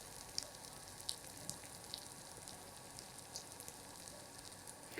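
Cabbage vada frying in hot oil, a steady soft sizzle with faint crackles and pops running throughout, fairly quiet and with no voices.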